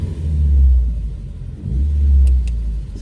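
An Audi 80 B2 with a carburetor revs in two swelling low rumbles, the engine rising and falling close by with no talk.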